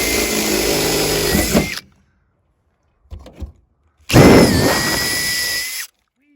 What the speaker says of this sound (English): drill a hole through